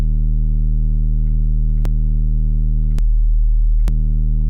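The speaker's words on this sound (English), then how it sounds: "if you slowly add distortion over time, then you go from something like what we just heard to something like this" A synth bassline with distortion added holds a loud, sustained low drone, broken by a few sharp clicks spaced unevenly.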